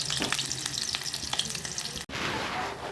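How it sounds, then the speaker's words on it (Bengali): Potatoes fry in hot oil for chicken rezala, a loud, steady sizzle that cuts out briefly and then returns stronger and hissier. "তেল আমার গরম হয়ে গেছে। এবার আমি আলুগুলো দিচ্ছি।"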